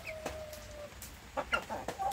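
Free-range village chickens cluck in short, scattered bursts, close by, with a few sharper calls toward the end and no voices.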